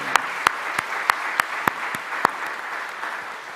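A church congregation claps in short sparse bursts, about eight distinct hand claps spread over a few seconds, then fades into quiet room tone with no talk.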